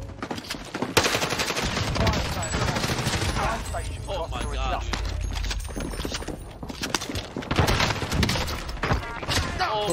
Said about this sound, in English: Is that the new shotgun